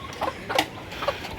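A mother hen clucks beside her eight-day-old chicks as they feed, giving a few short, close clucks in a brief burst over a low, steady background.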